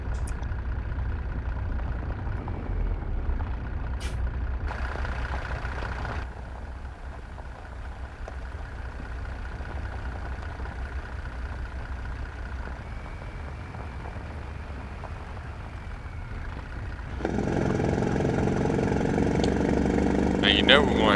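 A Mack truck rated at 600 horsepower and hauling 96,000 pounds idles with a low, steady drone in American Truck Simulator. A brief air release hisses near the start, and the engine swells louder toward the end.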